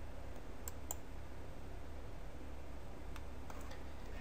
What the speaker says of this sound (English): So please click on it.